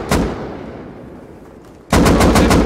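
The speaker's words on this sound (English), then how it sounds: "I hit him 3 times with an AK." AK rifle fire in the video game Rust: one loud shot opens, followed by a quieter stretch, then a rapid burst of about five close, punchy automatic shots.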